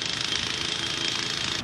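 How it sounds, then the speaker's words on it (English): Jackhammer pounding on a college campus, a rapid, continuous rattling hammering that stays loud and steady from start to finish. "Apparently, it's Jackhammer Day here at the College of William and Mary"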